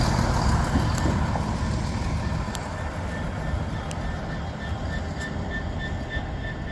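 A Class 700 Thameslink electric train departs Peterborough station on the East Coast Main Line, a steady loud rolling rumble with traction whine and faint high tonal whistles holding throughout.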